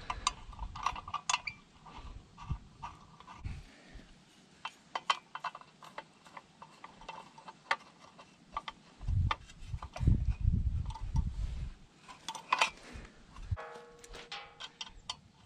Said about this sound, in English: Put the acetylene regulator on here.